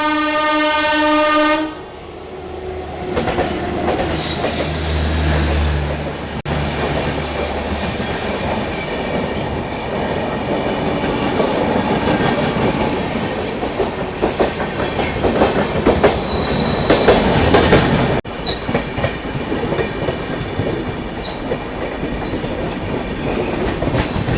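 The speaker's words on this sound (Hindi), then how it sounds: "एक तरह की क्रॉसिंग कह सकते हो आप, वो हो रही है अपनी नाहरलगुन AC एक्सप्रेस" An AC superfast express train passes on a parallel track, loud and close, opening with a horn blast and then a long steady rumble of wheels clattering over rail joints, with squealing metal and no talk.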